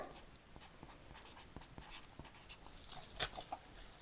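A pencil marks a paper skirt pattern with soft, scratchy strokes, quiet and close, in short irregular bursts with a few sharper scrapes near the end.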